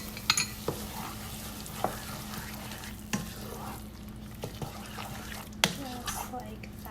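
A barbecue sauce mixture with peach and habanero is stirred in a hot pan, with soft sizzling under repeated scraping strokes of the spoon and a few sharper clicks against the pan.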